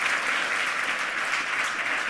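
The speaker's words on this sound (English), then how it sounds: "please give Lepht Anonym a really warm welcome" A conference audience gives a speaker a warm welcome, a dense and steady burst of applause from a large hall crowd, clapping throughout at an even level.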